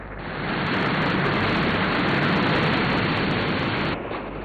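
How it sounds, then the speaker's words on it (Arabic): Rushing rainwater pours in a dense, steady hiss, loud and close, swelling in after a moment and holding constant before easing slightly at the end. "إنها مياه الأمطار."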